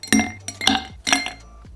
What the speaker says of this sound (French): On met des glaçons dans notre verre